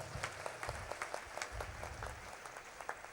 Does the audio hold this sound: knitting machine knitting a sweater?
no